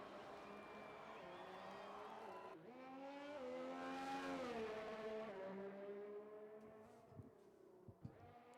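Race cars in a racing video game roar past with engines revving up and down in a continuous rising and falling whine, followed by a few short thuds.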